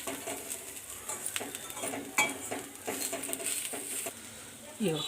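Tamarind frying in a pan for a drumstick-leaf and curry-leaf spice powder, with a utensil scraping and clinking against the metal in irregular strokes over a soft sizzle, close and moderately loud.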